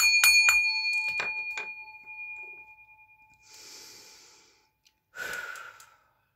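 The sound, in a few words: bell rung before a tarot reading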